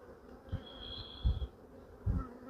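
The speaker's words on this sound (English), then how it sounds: "Just keep looking at the bees walking around." Honey bees buzz around an open brood frame at an apiary, a soft steady hum with a faint high whine, broken by a few low dull knocks or handling thumps.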